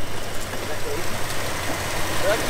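A 1967 Plymouth GTX muscle car engine idles up close with a steady, low, even rumble, very quiet for its type and uninterrupted throughout.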